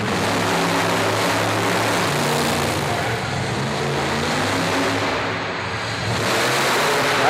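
Bigfoot monster truck engine roaring steadily during a competition run at a Monster Truck Nationals event in Corbin, Kentucky, a loud sustained drone heard from a distance, with no talking.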